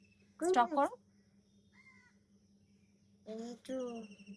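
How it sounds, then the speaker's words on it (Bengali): A crow caws from a tree in a short burst of harsh, close calls near the start, followed by a quiet pause, then a person speaks briefly. "কাক ডাকছে, আরো একটা পাখি ডাকছে।"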